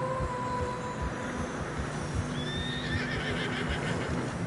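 In Red Dead Redemption 2, horses struggling through fresh snow whinny over a steady rumble of movement and hoofbeats, the neighs rising high and clear near the end.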